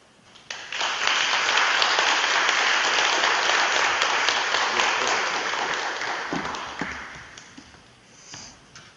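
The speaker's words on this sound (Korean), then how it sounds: "나오실 때 한번 박수로 환영하겠습니다." Audience applause welcoming a guest theologian to the lectern at a church ministers' gathering: broad sustained clapping rising quickly, holding steady for several seconds, then fading out, with a brief smattering returning at the end.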